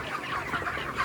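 Chickens on a village poultry farm cluck in a dense, overlapping chorus, close and continuous throughout the short stretch.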